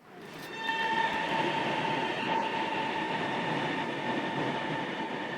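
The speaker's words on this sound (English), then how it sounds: "So first I took a train ride to Shanghai" A train ride to Shanghai: a steady rumble of rail travel with wheels on track and a thin metallic squeal, building quickly and then holding constant, with no voices.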